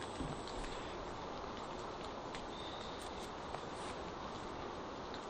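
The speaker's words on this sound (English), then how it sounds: "just so you can hear the rain like hitting the leaves" Rain falling on leaves in a dark forest, a dense steady patter and hiss that holds evenly throughout with no voices.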